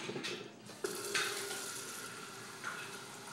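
Water running from a tap into a pitcher for a hand-cranked Wonder Wash laundry machine, a quiet steady splashing stream with a few small clinks, heard alone without talk.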